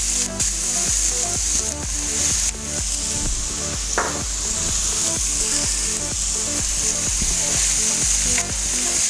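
Onions and carrots stir-frying in hot oil, a loud close sizzle broken by a rapid, regular series of spatula scrapes and tosses throughout.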